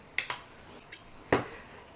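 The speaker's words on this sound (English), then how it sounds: "I'm going to fill these jars up with a little bit of water and clean out all that sauce." Water splashes into glass sauce jars being rinsed, a few quick wet drips and taps, one sharper splash near the end, close and fairly quiet.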